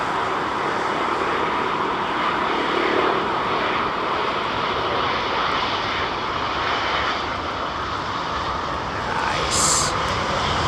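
Airliner powered by Rolls-Royce engines at London Heathrow, a steady broadband jet roar that holds loud and even throughout with no pauses, near enough to fill the whole scene.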